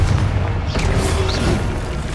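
A booming blast from the Confringo spell in Hogwarts Legacy, a deep continuous explosive rumble with a sharp crack partway through, loud and close with no talking.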